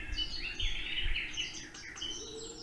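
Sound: birdsong from an alarm clock

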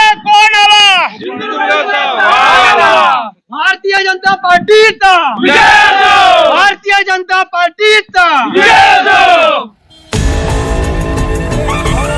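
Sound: BJP workers' crowd cheering in celebration of election victory

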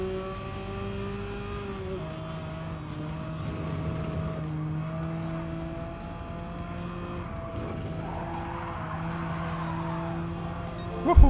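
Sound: car drifting with tire skid in Gran Turismo 7 video game

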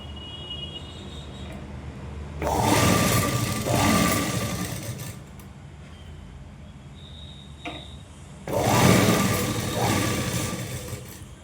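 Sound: sewing machine stitching a blouse

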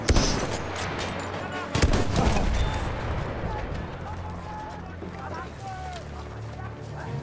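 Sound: gunfire from guns in Battlefield 1 video game

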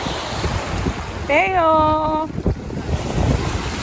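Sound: sea waves and wind at a beach

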